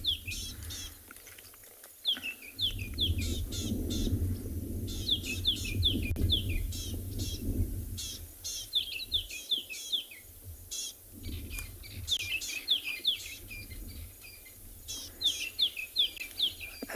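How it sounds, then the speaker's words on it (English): Francolins and other birds calling near sunset on a South African safari drive: repeated bright chirps and descending whistled calls in bursts over a steady low vehicle rumble, moderately near. "As we're getting closer to sunset, we can hear all the birds starting to call. We got some francolins up ahead of us that we're just calling now."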